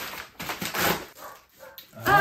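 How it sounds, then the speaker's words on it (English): A dog barks in a few loud, close bursts across a short stretch indoors, with a whimpering edge between them and no talk. "Let's try to do it in between the barks."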